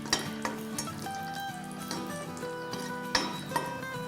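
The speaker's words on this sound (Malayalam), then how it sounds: "നമുക്കിനി ഇതിലേക്ക് നമ്മൾ ആദ്യമേ വെച്ചിരിക്കുന്ന നമ്മുടെ ഈ നട്ട്സ് ഒന്ന് വറുത്ത് കോരാം" Nuts fry in ghee for a paneer pulao garnish, giving a continuous close sizzle. Occasional metal utensil clinks and scrapes cut in as they are stirred, with no talking.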